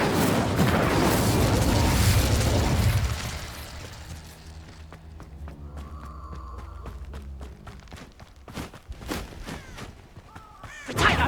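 The Incendio fire spell is cast in Hogwarts Legacy: a loud, roaring blast of flame lasting about three seconds, then settling into quieter game ambience with scattered short hits and clicks.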